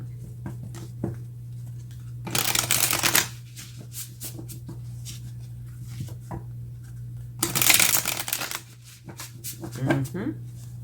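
Tarot cards are shuffled in two loud, close bursts of riffling, with quieter handling and light card taps between them over a steady low hum.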